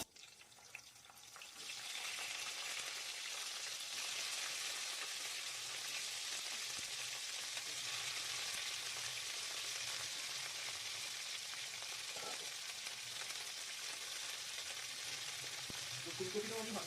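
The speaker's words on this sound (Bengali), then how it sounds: "ফুলকপিটা আমি ভাজবো" Cauliflower pieces sizzle steadily in hot oil in a pan, a broad continuous frying hiss that starts after a quiet opening and holds loud and close, with a few faint clinks of stirring near the end.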